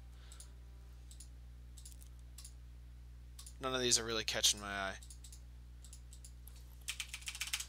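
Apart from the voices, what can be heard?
mechanical keyboard typing clicks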